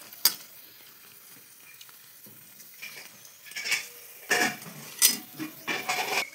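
Puri dough frying in hot oil for pani puri, with a steady soft sizzle and a few louder bursts of crackle and clatter of utensils near the end.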